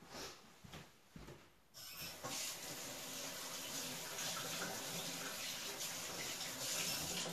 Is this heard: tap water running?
yes